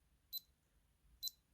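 A Dinkie Dino virtual pet toy gives two short, high electronic beeps about a second apart, crisp and close against a quiet background.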